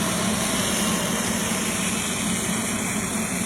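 A corn snack extruder machine runs with a loud, steady mechanical hum and broadband whir that holds constant from start to finish, with no voices.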